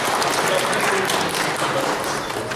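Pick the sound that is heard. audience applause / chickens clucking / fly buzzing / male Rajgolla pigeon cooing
audience applause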